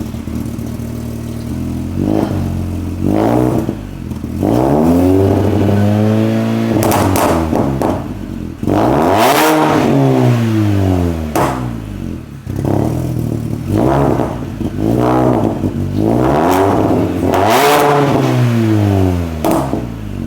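A custom-built car's engine fires up for the first time and revs hard through its exhaust, recorded close beside the tailpipe: a loud, raw roar rising and falling in repeated throttle blips, with brief drops between revs and no voices.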